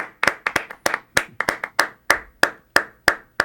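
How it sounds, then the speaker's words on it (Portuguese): Hands clap to welcome a guest on a talk show: a dozen or so sharp, separate claps close by, quick and uneven at first, then settling into a slower, steady beat, with no voices. "Senhoras e senhores, queria uma salva de palmas para o meu amigo Jorge Teles."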